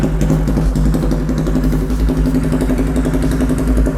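Chopper motorcycle with a long exhaust idling nearby, a loud, steady, rumbling, slightly cracked low throb with rapid regular pulses running continuously and alone.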